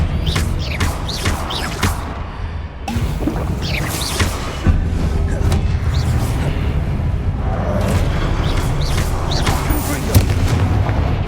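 Incendio and Confringo spells fire off in a wizard video game as a rapid series of sharp blasts and booming impacts with whooshing crackles, repeating closely through a dense, loud battle soundscape.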